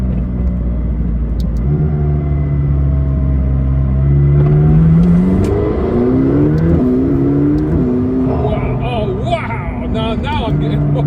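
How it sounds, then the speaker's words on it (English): McLaren 620R engine heard from inside the cabin, its carbon fiber roof-mounted air scoop drawing air in with a loud droning rumble that rises in pitch as the car accelerates, with a voice talking over it toward the end. "you get that that kind of suction sound in the cabin"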